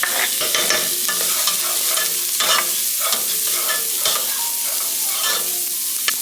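Onion and garlic sizzle in melted butter in a hot pan, a steady close, loud crackle with a few brighter bursts as the pieces are stirred, no voices over it.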